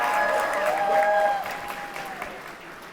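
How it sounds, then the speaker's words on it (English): Crowd applause at a high school graduation ceremony, dense clapping from a large audience that fades gradually, with cheering tones and voices in the room. "Can we give them another round of applause at this time?"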